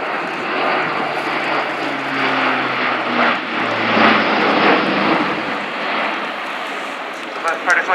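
Airbus A400M military transport in a flying display at RIAT 2015, driven by four Europrop TP400-D6 turboprops: a loud, steady propeller roar and drone whose pitch shifts as it passes, continuing throughout with no talk.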